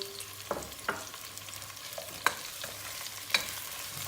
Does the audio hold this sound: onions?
yes